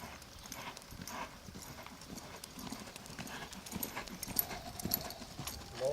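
Soft rhythmic hoofbeats of a loping horse, fairly faint against a steady background, with a relaxed repeating three-beat cadence.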